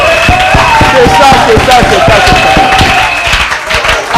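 A church congregation claps in a steady rhythmic beat while acclaiming the Lord, loud and continuous, with a preacher's voice speaking over the top.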